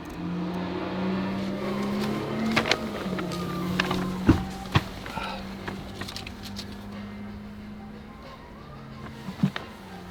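A Honda Civic Type R engine idles with a steady low drone and a few sharp revs and clicks, close by, with faint voices in the background.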